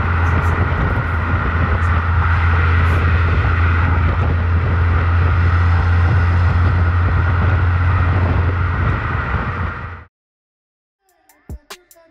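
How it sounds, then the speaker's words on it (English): A Ford Focus ST engine and stock exhaust drone steadily while cruising, with wind rush around it, then cut off abruptly into near silence and a few faint knocks. "you can hear like how the stock exhaust sounds"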